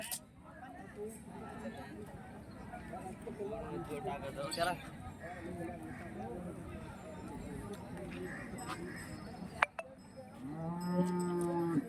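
Cattle moo nearby amid a busy outdoor crowd at a bull market in Hirapur, with people talking; a long, loud low moo stands out near the end.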